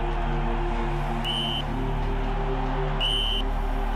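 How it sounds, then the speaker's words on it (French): A referee blows the whistle to end a World Cup football match between Argentina and Germany, two sharp long blasts over a dense roaring stadium crowd. "Lorsque M. Codesal Mendes siffle la fin de la partie"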